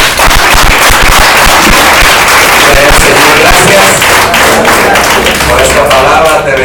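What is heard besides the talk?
congregation applauding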